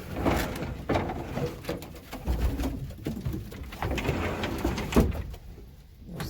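Pigeons coo softly and repeatedly in a loft where a Slade cock and other breeding birds are kept, with low throaty calls overlapping and a few light knocks and rustles nearby.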